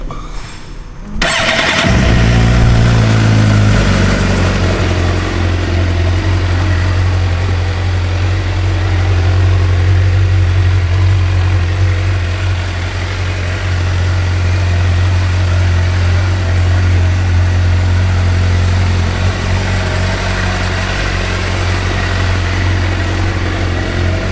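A 2008 Suzuki GSX-R 750 sport bike cranks briefly and fires up about a second in, revving once before settling into a steady, loud, close idle that holds for over twenty seconds without speech.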